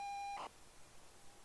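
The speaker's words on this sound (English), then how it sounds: "I like somebody putting beeps on here" A steady electronic tone from a home computer cassette tape holds for a moment and then breaks into a short burst of data noise. A faint hiss follows, and the tone briefly returns at the end.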